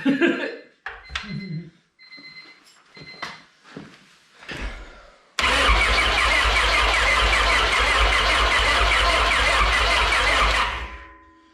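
After several short spoken exchanges, a car's F20B engine cranks and catches, then runs loudly with an uneven, rough idle for about five seconds before cutting off.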